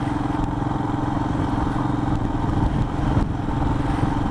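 A Royal Enfield Himalayan engine pulling steadily in gear at about 30, a continuous low mechanical thrum with clatter, close and steady throughout with no talk.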